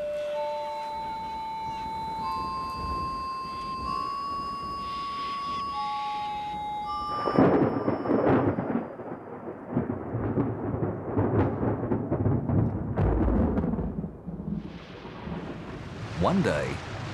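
A thunderstorm with rain breaks a drought in budgerigar country. Thin whistling bird calls come first, then deep rolling thunder cracks in loud and is followed by a steady rush of rain and more rumbles.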